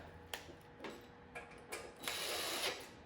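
A ratchet tightens screws on a 12U AxcessAbles equipment rack in short bursts of clicking, four or five separate spells with the last one longer, close up in a quiet room.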